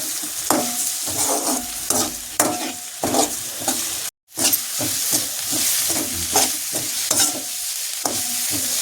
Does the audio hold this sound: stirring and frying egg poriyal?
yes